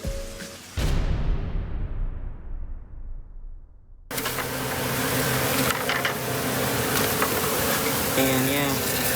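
Tiny flying insects buzz close by around a homemade keyhole garden, a steady whirring hum that cuts out briefly and then returns louder among rustling handling noise.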